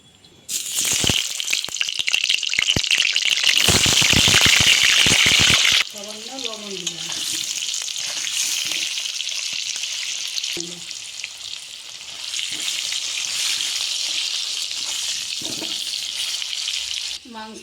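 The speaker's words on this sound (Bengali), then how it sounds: "আলুটাকে আমি ভেজে নিই" Potato pieces fry in hot oil for a Bengali mutton curry, a loud hissing sizzle with stirring clatter at first that drops to a steadier, softer crackle, then swells again, with no one talking.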